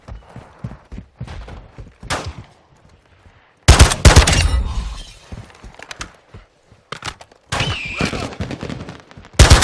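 Gunfire from a DMZ / Delta Force shooter video game: a sharp burst of shots and a second loud volley later, between quieter scattered pops and clatter, close and loud.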